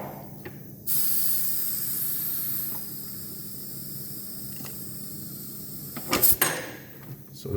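A pneumatic valve in an automatic control system, which drives a cylinder that clamps a door, opens with a sudden steady hiss that runs for several seconds and ends in a sharp mechanical clack and rattle.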